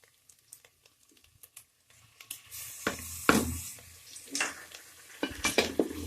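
Ginger garlic paste frying with onions in a pan, soft sizzling with intermittent scraping and clattering of a spoon stirring, quiet at first then louder stirring strokes, no talk.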